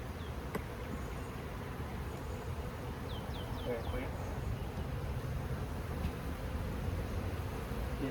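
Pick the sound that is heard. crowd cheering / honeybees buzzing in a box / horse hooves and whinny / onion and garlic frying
honeybees buzzing in a box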